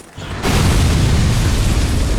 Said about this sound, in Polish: Uniknąłem ciosu, ale wybuch mnie zabił.